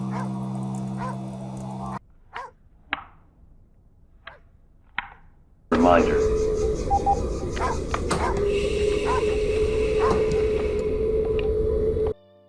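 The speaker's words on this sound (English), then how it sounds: "You hear the dog barking in a few other tracks before you get to track 7." A dog yips and barks a few times in sharp, isolated bursts over quiet backing, then a denser music passage takes over; a brief spoken word appears.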